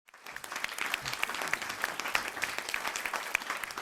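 An audience at a Malayalam comedy stage show claps after a short fade-in, a dense steady round of applause from many hands, moderately loud and sustained throughout.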